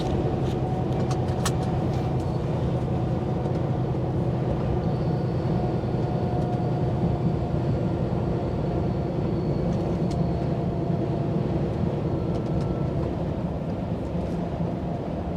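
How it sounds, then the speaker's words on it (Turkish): A Scania truck's retarder brakes on a mountain road in Tyrol, a steady low engine and driveline rumble with a faint whine, heard from inside the cab without pause for about fifteen seconds. "burada bir retarder çekelim"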